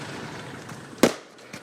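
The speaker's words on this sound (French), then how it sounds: "Grenade!" A grenade blast goes off during French army commando training, a single sharp loud burst standing out above a noisy outdoor background.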